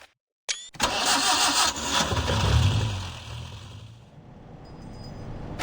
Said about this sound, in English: The engine starts, churning into a rhythmic pattern as the black taxi moves forward.